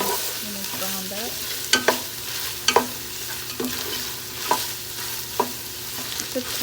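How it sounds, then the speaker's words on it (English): Ground beef browning in a pan for homemade chili, a steady soft sizzle broken by repeated scraping and stirring knocks of a utensil against the pan, close and moderately quiet. "You have to brown up your meat"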